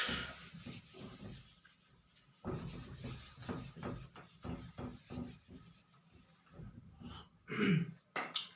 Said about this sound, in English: let me just erase this part